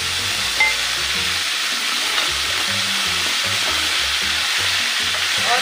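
Mutton keema fries in a pan with a steady close sizzle and faint rhythmic stirring thumps underneath, continuous and even throughout.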